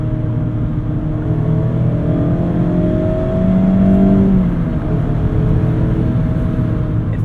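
Engine of an older ND1 Mazda MX-5 Miata RF pulling under acceleration from inside the car, a steady droning hum that climbs in pitch and swells slightly louder midway before settling, with road noise beneath.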